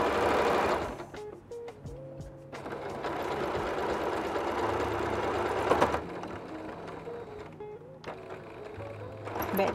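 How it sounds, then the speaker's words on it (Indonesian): A sewing machine stitches a batik tote bag in straight seams, running in steady bursts with short pauses between them, close and clear. "Jahit lurus macam biasa."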